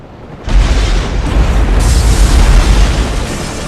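A massive explosion tears through the Gotham Royal Hotel in Batman: Arkham Origins, bursting in suddenly after a brief quiet and sustaining as a loud, deep, rumbling roar with no voices over it.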